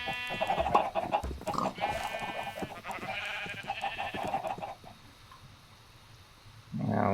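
Several Minecraft cows moo in overlapping, tonal calls for a few seconds. A quieter lull follows, and then one more call begins near the end.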